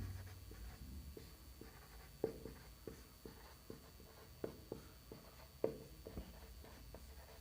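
Writing out a maths solution on a board, a steady series of light tapping strokes with a few sharper knocks, soft and close over a low background hum, with no talk.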